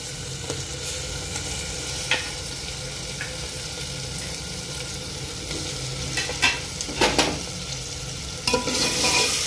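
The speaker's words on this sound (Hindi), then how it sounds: "इसे अभी हाई फ्लेम पे 2 मिनट अच्छे से भून लेंगे।" Mutton and onion fry on high flame with a constant, dense sizzle, broken by a few sharper scrapes and clatters as the meat is stirred. The pan sounds near and fairly loud.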